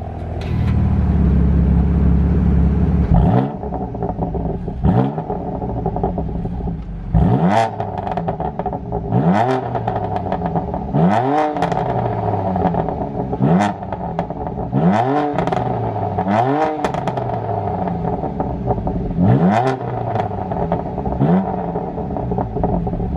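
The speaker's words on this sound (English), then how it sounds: "I think what we'll do now though, we'll turn the car on." A BMW M4 F82 fires up with a loud starter whir, then settles into idle and is blipped repeatedly, each rev a sharp raspy rise and fall, spaced every couple of seconds and heard up close.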